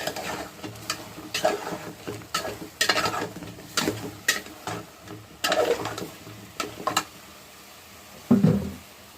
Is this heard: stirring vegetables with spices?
yes